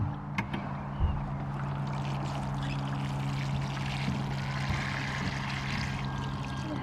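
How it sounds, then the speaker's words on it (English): Water poured at the base of a newly planted rose makes a steady, gentle splashing that runs without a break over a low background hum, with no talking. "we're gonna water it just at the base"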